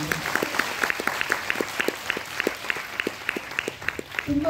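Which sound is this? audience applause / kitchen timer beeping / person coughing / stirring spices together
audience applause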